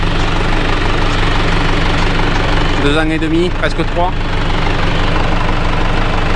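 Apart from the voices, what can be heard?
tractor engine running after restarting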